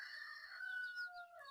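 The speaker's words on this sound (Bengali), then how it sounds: "এই যে টাইগার মুরগির বাচ্চাগুলো দেখেন কত সুন্দর" Tiger chicken chicks on a poultry farm give a faint, continuous high-pitched peeping chorus, with no voices over it.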